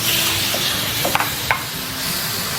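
Shrimp sizzle in a hot wok over a strong flame as seafood is added, a steady close hiss broken by a few quick pops and spatters.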